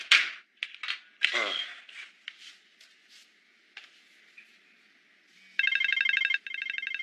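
A telephone rings with a loud, bright electronic trill near the end, preceded by scattered faint clicks and rustles in a quiet indoor scene from a television drama.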